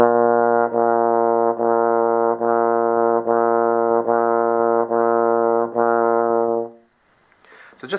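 Brass instruments play eight separate tongued notes on one steady pitch, each note cleanly articulated in an even rhythm, loud and close, followed by a short silence.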